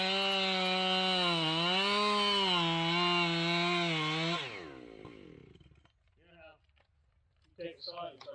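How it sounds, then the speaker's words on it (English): Husqvarna 592XP chainsaw running loud and steady for about four seconds as it bogs slightly under load cutting wood, then the engine note drops away and speech follows. "Take the saw and start cutting from the outside."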